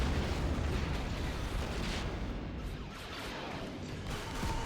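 Y-Wing bombers strike during a bombing run in Empire at War, setting off heavy, rumbling explosions that roll on and overlap in a loud, continuous barrage that eases slightly toward the end.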